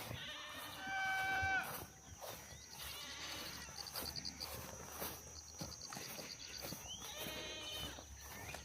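Goats bleating at scattered moments across a large cattle ranch in Uganda, mid-distance calls over a steady outdoor backdrop of insects and faint farm activity, with no talk.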